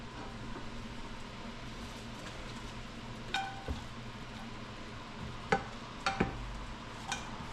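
Food sizzles steadily in a pan with a low frying hiss, broken by a few clicks and scrapes of stirring and utensil taps.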